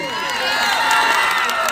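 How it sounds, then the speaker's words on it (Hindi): Audience at a DJ dance show in Lohjhar claps and cheers to welcome a performer, a dense, loud wash of applause and crowd noise throughout, with voices mixed in. "एक बार जोरदार तालियों में स्टाइलों के लिए"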